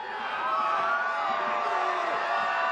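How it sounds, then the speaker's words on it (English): A large crowd at a political victory speech cheering and whooping steadily, a loud, dense roar of many voices that holds throughout. "What a crowd."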